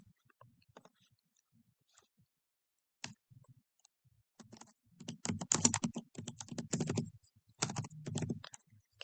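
Typing on a computer keyboard, quiet at first with a few scattered key presses, then a denser run of rapid close clicks in short bursts.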